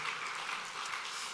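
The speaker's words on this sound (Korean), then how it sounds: "오래간만에 이렇게 박수 소리를 교회에서 들을 수 있어서 너무 좋아요" A church congregation applauds in a steady, fairly faint patter of many hands clapping together, heard alone without talk.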